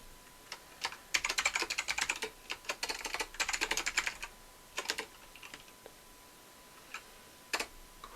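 Typing on a computer keyboard: bursts of quick, close key clicks in uneven runs, with pauses and a few isolated taps near the end, heard alone in a quiet room.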